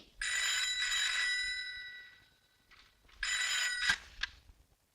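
A telephone in a Hindi film scene rings twice, loud and close, each ring a bright trilling burst separated by a short pause.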